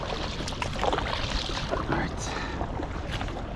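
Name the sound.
paddling a packraft on water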